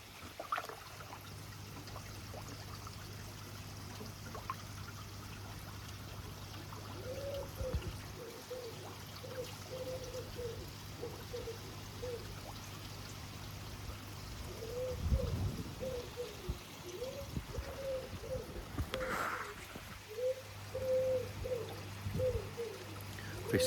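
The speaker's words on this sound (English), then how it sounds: "I installed the new bucket shower." Water from a bucket shower pours into a garden fish pond in the morning, making a soft, steady trickling splash heard faintly from a distance, with occasional birds and light outdoor background noise and no talk.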